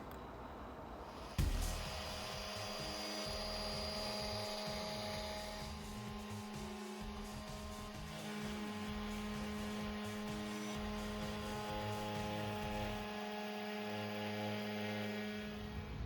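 A CNC router cuts a wooden sign with a 1/2 inch 90-degree V-bit, giving a steady, loud high-pitched whine with a constant mechanical hum that starts abruptly and runs throughout, with no talking.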